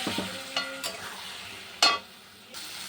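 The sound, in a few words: frying spices with green banana and potato curry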